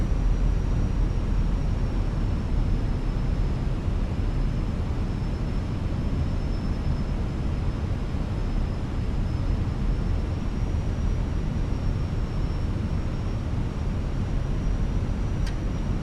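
An Airbus A319 rumbles on a steady, dense roar through a flight simulator landing approach, with a faint high tone running over it and a brief tick near the end.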